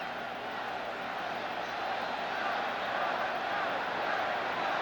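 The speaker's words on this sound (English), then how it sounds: "Now the crowd's hollering to go for it" Steady roar of a football stadium crowd hollering at a Jaguars vs Giants game, a broad continuous wash of many voices holding at even loudness throughout.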